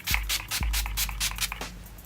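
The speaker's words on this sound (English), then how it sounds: "I'm just spraying with hangover primer or setting spray." Several short hissing bursts of makeup setting spray or primer misted close by, each a sharp pump followed by a breathy spray, coming in a quick irregular series.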